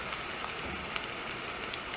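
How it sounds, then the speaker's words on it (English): Onion and garlic frying in a pan over low heat while being stirred, a steady close crackle and sizzle with small pops, no talking. "Don't burn your onion and your garlic. Keep stirring in."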